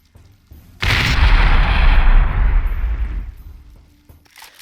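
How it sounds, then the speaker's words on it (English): A panzer blows up a wall in the PC game BloodRayne, a sudden loud blast followed by a roaring rumble that tails off over about three seconds, with no voice over it. "another goddamn panzer just blew up that wall somehow"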